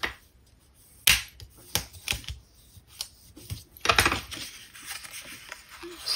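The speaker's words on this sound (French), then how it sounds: "on va faire marquer nos plis avec notre plieur à os" Creasing folds in paper card with a bone folder: sharp scattered clicks and scraping taps, irregular and close, with a few louder bursts of rubbing and quiet gaps between.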